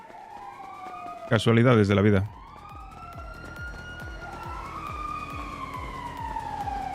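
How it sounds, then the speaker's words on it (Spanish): Police sirens wail in a roleplay video game, several overlapping rising and falling sweeps running steadily through the scene over a rhythmic low thumping, with a short burst of speech near the start. "es llegar y ya están las sirenas. Uf, madre mía, sirenas por todos lados"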